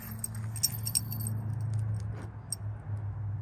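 Car keys for a 2015 Dodge Charger jangle and clink in several quick bursts over a low, steady engine-like hum.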